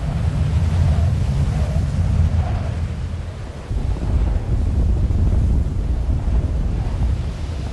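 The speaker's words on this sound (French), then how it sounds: "sans aucun autre paysage que le mouvement des vagues." Wind and ocean waves far out at sea near Point Nemo, a steady broad roar with rolling surges and gusts buffeting the microphone, loud and continuous with a brief dip midway.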